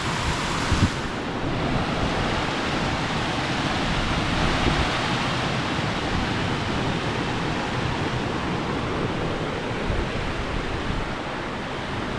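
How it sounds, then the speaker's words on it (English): Waves washing steadily onto an empty lake beach in the Pennsylvania Wilds, a continuous, fairly loud broadband wash mixed with wind noise, with no voices. "that's the beach over there, but no one's on it right now."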